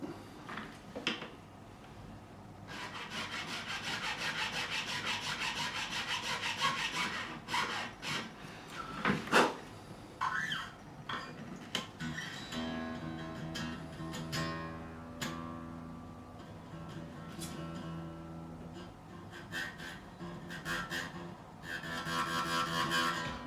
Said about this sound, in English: we've cut all of the nut slots a little deeper, nice and low above the first fret